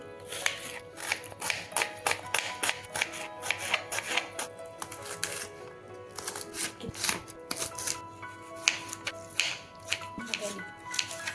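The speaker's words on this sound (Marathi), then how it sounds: "सर्व आता कट करून घेतले कांदे टमाटे लसण आणि हिरवी मिरची" Knife chopping onions, tomatoes, garlic and green chillies on a board in a home kitchen, a quick run of close, crisp taps with short pauses between bursts, soft background hum underneath.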